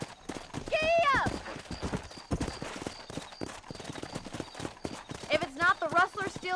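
Horse hooves clip-clop steadily in Red Dead Redemption, the western video game, with a couple of sharp whinnies rising over the close, continuous hoofbeats.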